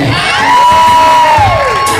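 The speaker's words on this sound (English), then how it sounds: "clap for Amaya Sexton" A pageant audience cheers loudly for a contestant, with a crowd of shouts and high whoops, including children's voices, over steady background noise.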